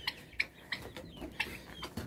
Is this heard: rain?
no